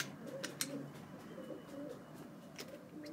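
Pigeons coo indoors in a low, repeated, throaty rhythm that carries through the clip, with a few faint chirps and soft room noise behind and no talking.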